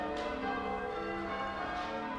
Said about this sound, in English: As the bells ring out over Damerham